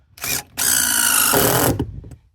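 A power drill drives screws during off-grid Arctic cabin building, with a short burst, a pause, then a long loud steady whine as a screw seats before winding down, close and alone.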